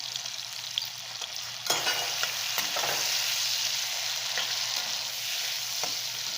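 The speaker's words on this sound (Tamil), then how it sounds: "இதெல்லாம் நல்லா வதங்கட்டும்." Vegetables with turmeric and chili powder sauté in a pan, with a steady close sizzle and frying hiss, broken by occasional scrapes and clicks of a spoon stirring; no one speaks.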